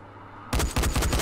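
Rapid gunfire in the Dying Light zombie video game, a loud burst of repeated shots in quick rhythm after a brief quiet moment.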